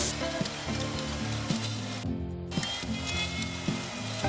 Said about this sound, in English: have like fat and stuff burning on the coals